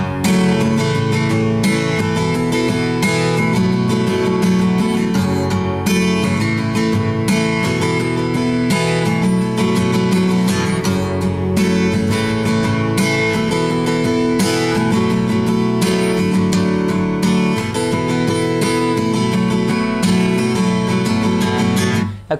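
Strummed acoustic guitar plays the intro to a song, with steady, loud, full chords in a continuous rhythmic pattern and no voice over it.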